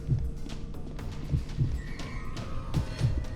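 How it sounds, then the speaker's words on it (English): A heartbeat sound effect in the horror video game White Day thumps in steady paired beats at low level beneath faint ambient tones. "Oh, there goes my heartbeat."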